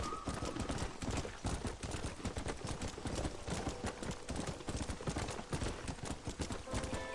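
Horse hooves clip-clopping as a rider travels through a wet, rainy landscape in the video game Red Dead Redemption, a rapid, steady run of hoofbeats that continues throughout against dense in-game ambience.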